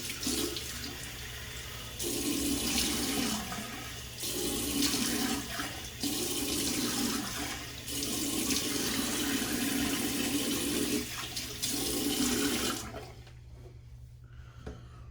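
A tap runs into a sink while shaving lather is rinsed off, a steady loud hiss of flowing water that swells and dips as hands move through the stream, then cuts to quiet near the end.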